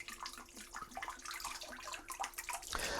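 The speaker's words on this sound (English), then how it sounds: "Isn't that a nice noise? Bubbles." Washing-up water in a sink bubbles and sloshes softly, a faint, close burble of suds and small splashes with no voices.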